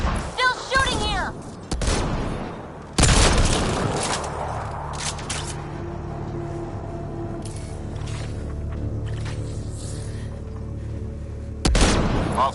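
Gunfire in the Mass Effect Andromeda video game: loud bursts of shooting and booming impacts break out in several separate volleys over a steady low hum of combat ambience.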